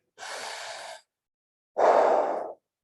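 Two forceful ujjayi breaths drawn through a constricted throat, each lasting under a second, with a hissing, slightly rasping texture and a pause between them.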